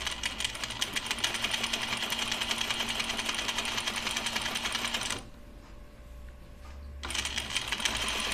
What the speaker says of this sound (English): I find that my machine likes sewing more on the length grain on knits.